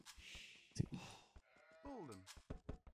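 Several short sheep bleats sound from a strategy video game, with one drawn-out, wavering bleat in the middle, all mixed with quiet game effects and faint voices talking.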